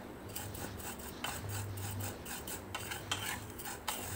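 Dry vermicelli (semiya) being roasted in a pan, stirred and scraped with a spoon, making repeated soft scratching and rustling strokes at close range with a faint low hum underneath and no talking.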